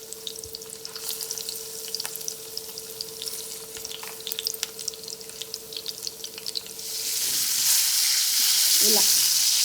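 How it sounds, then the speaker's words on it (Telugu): Ridge gourd pieces frying in a pan for chutney, a steady close sizzle with faint stirring scrapes that swells into a louder, denser hiss toward the end. "బీరకాయ ముక్కలు, వాటిని కాల్చుకుందాం"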